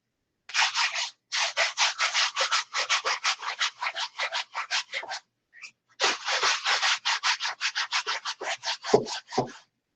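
Sanding by hand at a workbench: quick, rhythmic back-and-forth rasping strokes, close and clear, with a short break midway before the strokes resume.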